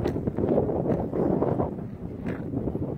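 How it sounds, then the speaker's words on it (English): Wind blowing outdoors during a walk, a steady low rumbling gust buffeting the microphone, fairly loud and continuous with slight surges, no talking. "Noticing the wind currents picking up and how it just blows against my face."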